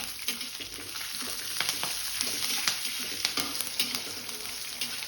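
Raisins and curry leaves sizzle and crackle in hot oil, a steady close frying hiss with scattered sharp pops and some stirring, no voices.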